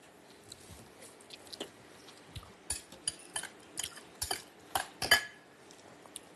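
Utensil clinks, stirring scrapes and soft wet mouth sounds come in irregular bursts close by, with quiet chewing while a cherry and raspberry compote is tasted.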